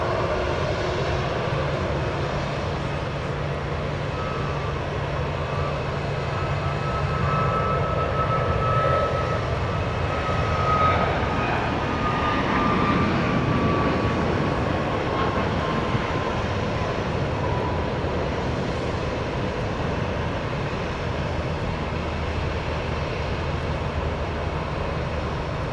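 A jet airliner departs Dallas Love Field, its engines producing a loud, sustained broadband roar that swells and slowly shifts in pitch, heard close and without talk.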